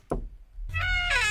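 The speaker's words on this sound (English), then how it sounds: "Wait, what is that knocking sound?" A knock on a door inside the horror game Mirror Mirror, a single sharp close rap followed by a low rumble and rising tonal game sound effects.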